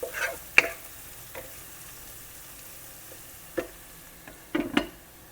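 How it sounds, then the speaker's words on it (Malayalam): Cashews frying in a pan for a prawn biryani crackle faintly, broken by a few sharp clicks and scrapes as they are stirred now and then. The spoon strikes come in small clusters over a quiet background. "ഈ ടൈം നമുക്ക് കുറച്ച് കാഷ്യൂസും ഒന്ന് ബ്രേക്ക് ചെയ്തെടുക്കാം. ഇടയ്ക്കൊക്കെ ഒന്ന് ഇളക്കി കൊടുക്കാം."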